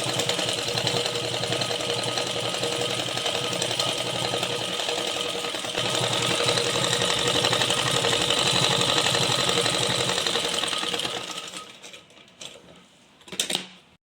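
A sewing machine stitches a strip of cloth for a blouse sleeve, running with a loud, steady mechanical whirr for about eleven seconds before slowing and stopping with a few short bursts.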